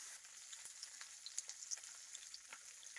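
Large fish pieces frying in a pan, a faint, quiet sizzle with scattered small pops and crackles spread across the moment.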